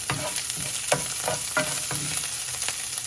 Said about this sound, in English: I'm adding green chilies to it and I'm adding ginger. So just do one stir